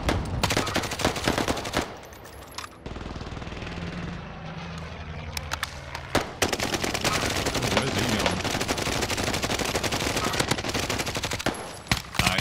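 Rapid automatic gunfire in Call of Duty Warzone Pacific, loud staccato bursts of shots with a brief lull before the firing resumes steadily to the end.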